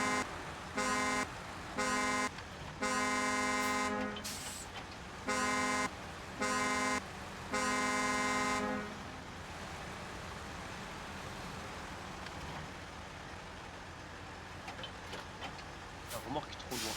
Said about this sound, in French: Je kiffe le klaxon du Tatra.